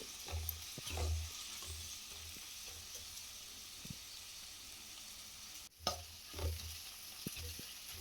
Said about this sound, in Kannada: ಇದನ್ನು ಈಗ ನಾವು ಸ್ವಲ್ಪ ಫ್ರೈ ಮಾಡ್ಕೊಳ್ಳೋಣ ಹಾನಿಯನ್ನು